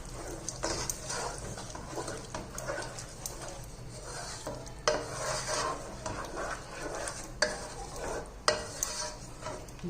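A spoon scrapes and stirs a potato mixture with vinegar and corn paste in a frying pan, steady clattering strokes against the metal with a soft sizzle underneath, close and fairly loud.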